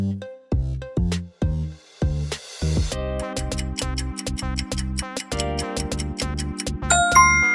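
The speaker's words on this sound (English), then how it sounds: "Doorbell." A doorbell's bright chiming melody rings out, a few separate tones at first, then a steady sequence of bell-like notes, loud and close.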